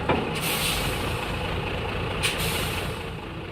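A truck pulls to a stop on a quiet roadside, releasing loud hissing bursts of air brake over a low idling engine, one near the start and another midway.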